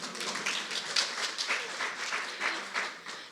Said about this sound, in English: We can clap her up, come on.